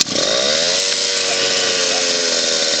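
A small engine starting from cold, catching at once and settling into a loud, steady buzzing run with a slight wavering pitch, close by and without speech.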